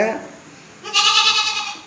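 A young goat bleats, a short cry followed by a longer, loud, wavering bleat close by, with no talk over it.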